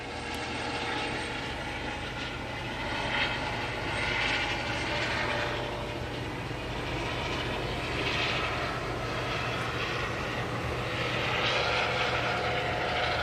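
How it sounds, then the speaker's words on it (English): A helicopter flies overhead at a rocket launch complex, a steady loud rotor and engine drone that holds for the whole stretch with slow swells in intensity, no voices on top. "you can hear the helicopter overhead"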